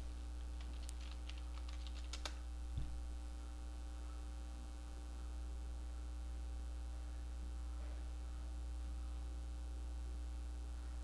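Fingers typing on a computer keyboard, a scattered run of light clicks early on over a steady mains hum, then fading to the hum alone.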